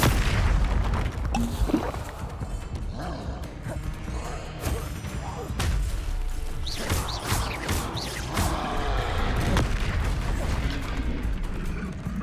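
Expelliarmus spell duels in Hogwarts Legacy, with repeated thuds, crashes and booming magical impacts over mechanical clatter, moderately loud, with voices calling out amid the fight.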